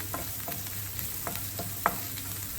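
Onion, green chilli and curry leaves frying in hot oil in a pan for chicken fry, a steady low sizzle broken by several short scraping stirs of a spatula, close and fairly quiet, with no voices.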